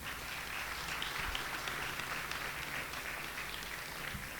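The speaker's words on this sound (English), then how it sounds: "give yourselves a round of applause for that" Steady applause from an audience at a Washington State University senior student-athlete luncheon, a continuous wash of many hands clapping, heard faint and somewhat distant in the room.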